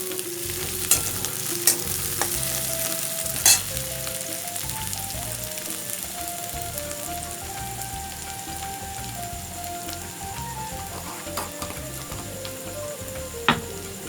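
Chopped onion and green chillies sizzle and fry in a pan, a steady bright crackle with intermittent scraping stirs and clinks of a spoon throughout, close and alone with no voices.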